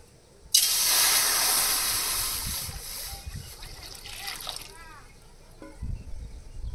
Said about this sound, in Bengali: এবার কড়াইতে জল দিয়ে লাউ শাকগুলো সিদ্ধ করে নেব।